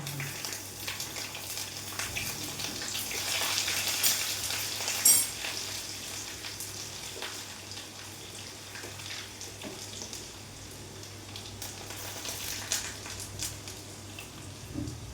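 Garlic and dried chilli frying in oil with mustard seeds for a drumstick thoran: a continuous, moderately loud sizzling hiss with occasional crackles and stirring sounds throughout.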